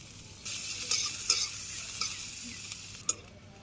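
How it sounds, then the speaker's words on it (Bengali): Sliced onions and chopped green chilies sizzle in a pan over a village cooking fire. A steady frying hiss runs under occasional stirring scrapes and a sharp clatter near the end, with no talking. "এই যে পেঁয়াজ ভাজি হয়ে গেল"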